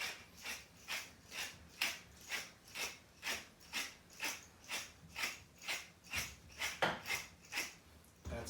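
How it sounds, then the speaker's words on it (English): A pepper mill grinds fresh pepper over a pan of chestnut dressing in a cooking class kitchen, making a steady run of about seventeen crunchy, ratcheting twists, close and evenly paced, with no talking. "I have the pepper mill here. Always grind your pepper fresh."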